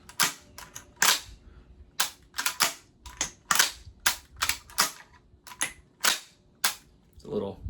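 A 12-gauge shotgun firing less-lethal RAM-SHELL rounds sounds as a rapid series of about a dozen sharp, snappy cracks at irregular intervals, loud and close, with no talk over them.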